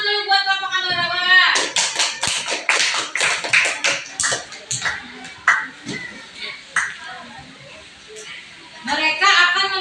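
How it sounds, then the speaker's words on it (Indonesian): Classroom of students clapping for a presenting group, a short burst of sharp, uneven claps from many hands that thins out into a few scattered claps, after someone speaks and before more talk resumes. "Tepuk tangan dulu buat kelompok Ambarawa."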